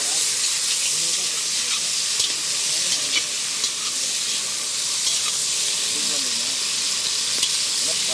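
Quail meat sizzles and crackles steadily in a hot pan, a dense continuous frying hiss with occasional stirring scrapes.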